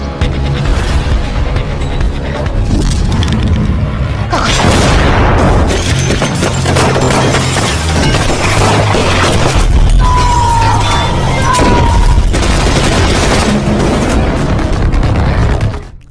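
Loud, dense action-film gunfire and explosions in a chaotic street fight, with a button bomb thrown to cover an escape. Booming blasts and rapid shots run continuously and heavily layered for the whole stretch.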